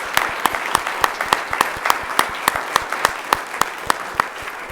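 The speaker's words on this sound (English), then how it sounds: "let's give him a round of applause" Applause at a school board of education meeting honoring a new elementary school principal; a few nearby hands clap in a loud, fairly regular rhythm of distinct sharp claps.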